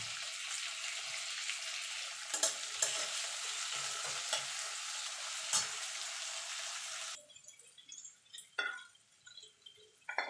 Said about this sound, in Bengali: টমেটোটা দিয়ে একটুখানি নাড়াচাড়া করে নেব